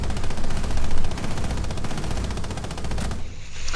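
Sustained bursts of light machine gun fire in Rainbow Six Siege, rapid dense rounds close and loud, running almost continuously before cutting back to quieter ambience near the end.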